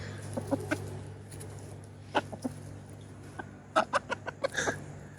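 Soft, scattered hen clucks in short bursts over a steady low hum, some clucks grouped in quick runs, fairly close and moderately quiet.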